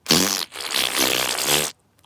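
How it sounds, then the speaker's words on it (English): A fart noise sound effect, two bursts of loud, buzzy, raspberry-like sputtering with a brief break between them, close and dry, ending in near silence. "how about fart noise?"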